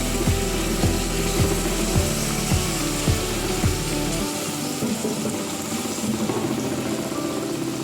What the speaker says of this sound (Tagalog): Pagkukulin natin lang po ng mabuti or papulahin lang ang ating sibuyas.